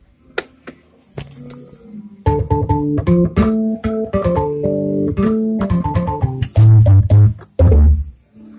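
Hammond XB2 organ with percussion switched on, playing sustained chords and short melodic runs with a bright percussive click on each note attack, loud and close, alone without talk.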